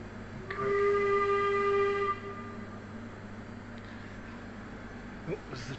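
A working steam train whistle at a restored gold mining shantytown on New Zealand's West Coast sounds one long, steady blast, then cuts off, leaving a low rumbling background with faint voices.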